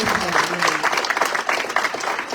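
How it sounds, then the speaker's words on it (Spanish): In a Spanish-language Bible study gathering, a congregation claps briefly, uneven close-by clapping with some murmured voices mixed in, lasting only a couple of seconds. "Démosle un aplauso al Señor que nos ayuda"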